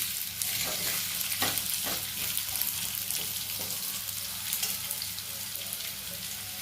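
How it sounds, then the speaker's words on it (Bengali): Potatoes frying in a pan give a steady, close sizzle with occasional stirring clatter, continuous throughout with no talk. "আলু ভাজাটা হতে থাকুক"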